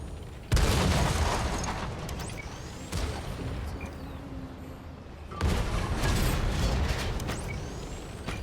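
Enemy fire hitting an Object 490 Belka Soviet tank destroyer in World of Tanks: loud booming shot impacts at about half a second, three and five and a half seconds, each followed by rumbling, mechanical engine drone between them.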